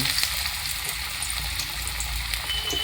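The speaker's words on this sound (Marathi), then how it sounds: "आणि मग मी इथं तेलात हळू सोडते" Sweet corn fritter batter, hand-flattened, slipped into hot oil for deep frying, giving a steady close sizzle and bubbling hiss with no talk throughout.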